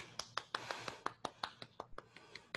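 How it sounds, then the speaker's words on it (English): A group of young dancers in a beginner lyrical dance class clap for themselves, giving a quick, uneven burst of a dozen or so hand claps close by with no talking. "Give yourselves a big clap."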